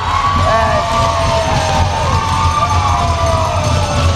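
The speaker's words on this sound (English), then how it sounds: "Crowd goes nuts" A U15 AAA hockey crowd at a Moncton Hawks versus Dieppe Flyers game roars and cheers in a busy rink, a dense, loud, sustained wash of shouts and whoops with overlapping excited voices.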